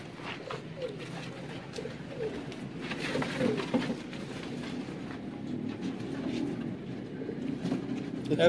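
Sialkoti pigeons coo softly in a loft, a low continuous murmur of overlapping coos close by, with faint rustling and brief background voices.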